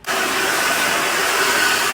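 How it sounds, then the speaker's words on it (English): A hair dryer blows with a loud, steady airy whoosh for a couple of seconds, close and continuous. "I take a regular hair dryer and I flip my hair upside down and I dry it"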